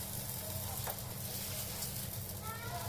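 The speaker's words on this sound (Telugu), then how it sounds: "నేనైతే దోశ వేస్తున్నాను." A dosa sizzling on a hot pan, a soft steady hiss beneath a low background hum with a voice talking.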